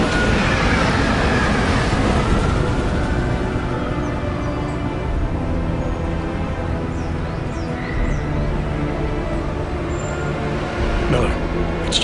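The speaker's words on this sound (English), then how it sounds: "Just getting off the train now." A train in the video game Deus Ex: Mankind Divided rumbles and hisses steadily as it arrives, loud and continuous with a metallic squeal near the end, and a voice speaks over it.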